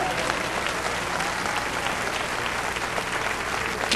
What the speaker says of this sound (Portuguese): Aplausos para Deus!